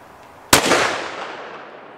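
A single loud rifle shot from a Ruger American Ranch chambered in 450 Bushmaster, a sharp close crack followed by a long rolling outdoor echo that fades over a second and a half.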